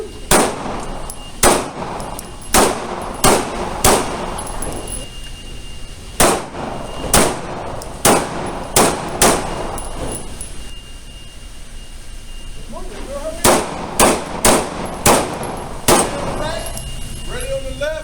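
Pistol shots at a shooting range crack out in sharp, loud bursts, several quick strings of five or six shots separated by short pauses, with a range officer's voice calling commands between volleys.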